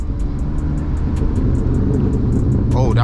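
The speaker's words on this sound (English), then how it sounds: "That was surprisingly so perfect of a downshift." Manual BMW E36 driven through hills, its engine droning close and loud in the cabin with a low rumble during a rev-matched downshift, and a voice cutting in at the very end.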